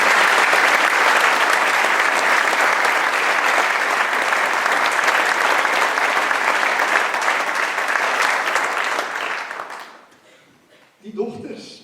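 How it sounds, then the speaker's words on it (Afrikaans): An audience at a school prefect induction ceremony applauds loudly and steadily for about ten seconds before the clapping dies away and a voice begins. "Kom ons gee 'n lekker applous."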